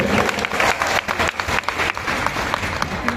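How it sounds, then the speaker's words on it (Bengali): A large audience of students and parents claps loudly and continuously, a dense close wash of applause with no pause. "তোমাদেরকে এবং তোমাদের বাবা মার জন্য একটা জোরে করতালি হবে এখানে"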